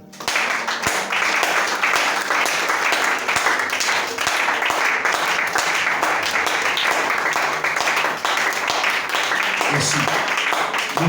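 Applause from a church congregation after a sermon, dense and steady clapping filling the whole stretch at close range, with a few voices rising briefly near the end.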